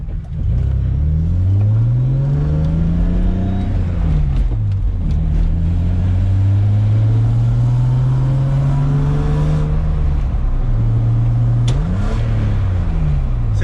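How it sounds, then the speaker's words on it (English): Car engine with a 7,000 rpm rev limiter revving repeatedly, pitch climbing and falling in several loud, close sweeps, with a couple of shorter blips near the end. "It has the 7K rev limiter"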